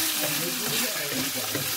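Potatoes stir-fried with sesame oil in a pan give a loud, continuous close-up sizzle, with a spatula stirring and scraping through the crackle.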